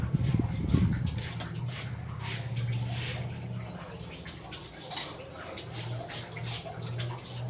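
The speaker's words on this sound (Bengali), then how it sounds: "এখন বাঁধাকপিটা কেটে ধুয়ে নিচ্ছি" Running water splashes steadily over freshly cut cabbage being washed in a kitchen, a continuous close wash with small drips and bumps, a low hum underneath and no talking.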